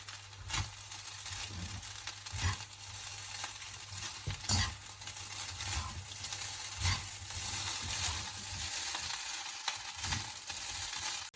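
Chicken fried rice with carrots and leeks being stirred in a pan, soft rhythmic scrapes and tosses over a faint steady sizzle and low hum, quiet and close, with no voices.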